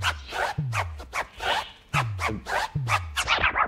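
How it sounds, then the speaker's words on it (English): Rhythmic turntable scratches repeat in a loop, with quick back-and-forth swipes and low pitch-dropping thumps, close and crisp. "we're gonna go ahead and go to the scratch loop"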